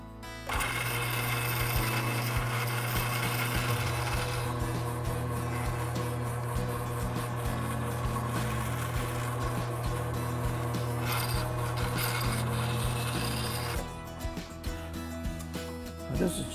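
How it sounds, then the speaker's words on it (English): A small motorized drill with a pointed bit runs continuously with a steady whirring buzz, deburring hole edges, its tone shifting slightly as it grinds, then easing near the end. "It's just a pointed drill, and you just stick it in here and it'll take the edges off this."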